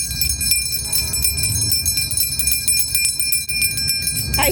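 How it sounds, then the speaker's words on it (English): Church bells ring in Portsmouth, New Hampshire for the anniversary of the Treaty of Portsmouth, their sustained metallic tones sounding steadily and fairly loud over a low outdoor rumble, with no talking. "The church bells are still chiming, so I guess we're still supposed to be ringing."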